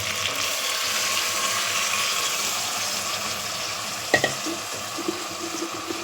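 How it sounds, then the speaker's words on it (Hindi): Water poured into a pan of okra and chicken masala: steady sizzling hiss and bubbling throughout, with a brief clink of utensils near the end, close and with no voice. "और थोड़ा सा पानी डाल दूँगी।"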